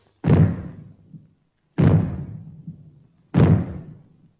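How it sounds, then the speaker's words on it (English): Three loud, booming maroon bangs sounded as a fallout warning, at even intervals, each with a short rumbling decay and silence between them. "you will hear 3 bangs in short succession. They will be sounded by means of maroons like this."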